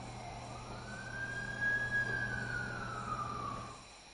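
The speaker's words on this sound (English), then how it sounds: "That's the ambulance I called." An ambulance siren in The Amazing Spider-Man 2 video game wails in one slow rising-and-falling sweep, moderately distant, over a low steady hum.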